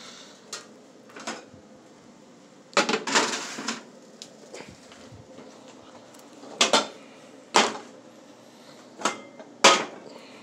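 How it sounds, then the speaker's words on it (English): Kitchen clatter as a pan of potato wedges goes into the oven: sharp metallic clanks and knocks of pan on rack and oven door, spaced irregularly, fairly close, with quiet room hiss between. "I'm going to put the potato wedges in the oven"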